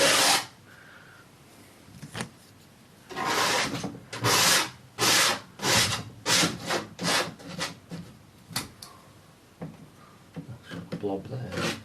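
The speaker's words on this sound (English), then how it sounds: "I don't want much paint on, so scrape it off like this." Scraping paint off a wooden tree sculpture being stained, a series of rough rasping strokes in bursts, close and fairly loud, with quieter pauses between.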